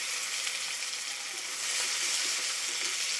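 Dried chillies, whole cumin, onion and garlic sizzling in hot oil left over from frying fish, a steady, close hiss of frying that swells slightly partway through, with no talking.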